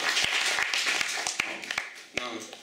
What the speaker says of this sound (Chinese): 这个可以请大家给主持人一个掌声吗